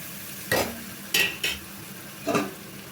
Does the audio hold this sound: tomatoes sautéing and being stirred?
yes